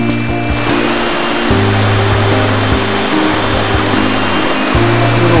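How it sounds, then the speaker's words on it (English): Water rushes and splashes continuously over rocky terraces at Big Hill Springs, a loud, steady roar of small falls close by. "Little waterfalls"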